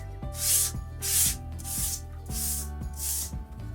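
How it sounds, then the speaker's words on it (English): Rhythmic back-and-forth rasping of a sanding block across a painted surface, five steady strokes close by, with a low hum underneath. "I'm gonna take my sanding block to it right now and smooth out those rough surfaces"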